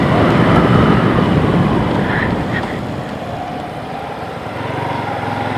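A KTM 390 Adventure motorcycle engine drones loudly and steadily while riding, mixed with heavy wind buffeting against the microphone; the level eases slightly midway and no one speaks.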